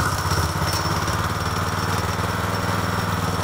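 A Spartan 727 drain cleaning machine runs at about half throttle, a loud steady mechanical drone with a rapid rhythmic pulse, close and continuous, with no talking.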